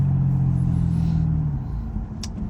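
A BMW 125i rear-wheel-drive convertible with an inline-six engine drones loudly and steadily up close during a night drive, then the note drops and eases off toward the end.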